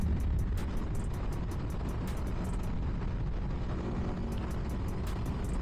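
A 2024 Aprilia Tuono V4 1100 motorcycle pulls hard under acceleration, a loud continuous engine roar mixed with heavy wind rush throughout, with no talking.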